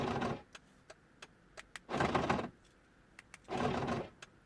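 A faulty Mercedes passenger-door lock actuator makes the machine-gun effect, with rapid mechanical rattling bursts alongside short clicks, heard up close and fairly faint.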